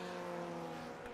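Race car engine screaming at high, steady revs without traction during a sim racing game at Belle Isle, a loud continuous drone with no forward surge.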